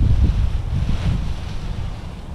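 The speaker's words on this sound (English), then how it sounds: "Whoa, that was a gust" A gust of strong, dry Santa Ana wind at a local park, where a kite is being flown, roars as steady broadband rumble and buffeting against the microphone throughout, with no voices.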